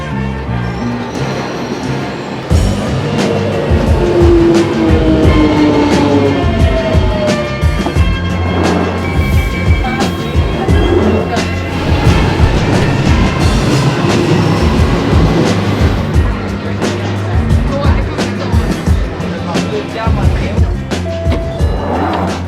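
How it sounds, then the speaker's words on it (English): A London Underground Jubilee line train pulls away, its traction motors whining upward in pitch over a steady loud rumble and clatter of wheels on rails for the whole stretch. "You know, the sound of the trains departing"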